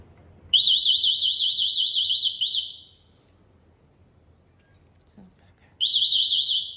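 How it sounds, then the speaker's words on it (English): Alarm on a Kaabo Mantis electric scooter: a loud, rapidly warbling electronic siren sounds for about two seconds, stops, then starts again near the end, with a brief click between. "So this is all the alarm"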